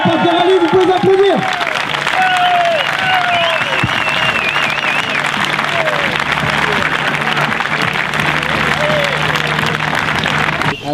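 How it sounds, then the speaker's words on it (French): An audience applauds the winning team of a rally in the Marais: loud, continuous group clapping with voices talking and calling out over it near the start, the clapping holding steady to the end. "C'est l'équipe numéro 44 qui a remporté le rallye, vous pouvez applaudir."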